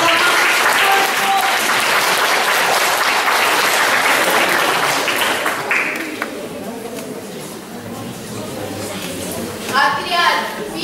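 Loud, sustained applause from a school audience at a Zarnitsa-2016 team presentation, with scattered voices mixed in, thinning toward the end before a brief swell.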